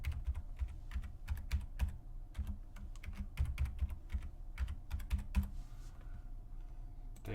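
A computer keyboard clatters with rapid, uneven keystrokes as a password is entered during SQL Server replication setup, close and steady with a short pause near the end and no speech.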